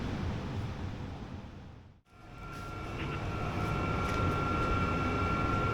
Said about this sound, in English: I got the furnace on right now, and the heater blower going over there too, so it's a little louder than normal.